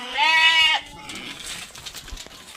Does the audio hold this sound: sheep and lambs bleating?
yes